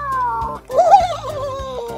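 A voice imitates an elephant's trumpeting during baby doll bath play: one loud, wavering, nasal call that swells and then trails off.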